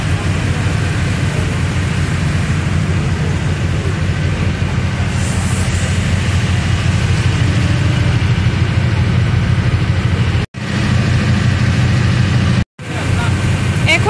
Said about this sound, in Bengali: এই যে আমাদের লঞ্চ ছেড়ে দিল, আমরা এখন যাচ্ছি।